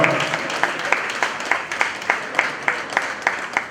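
A crowd at a Digambar Jain temple in Pitampura claps loudly in unison, with sharp, evenly spaced beats in a steady rhythm close by.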